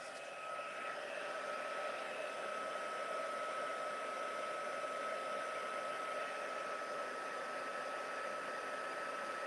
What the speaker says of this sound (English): And I'll just come in with my heat gun.